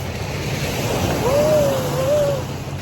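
Waves wash ashore at Mackinac Island, a broad surging rush of surf mixed with wind buffeting the microphone, loud and continuous, while a faint voice-like tone rises briefly partway through.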